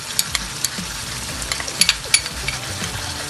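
Garlic and chopped ginger fry in a pan with a steady sizzle, broken by sharp clicks and scrapes of stirring at irregular moments, close and fairly loud, with no talk.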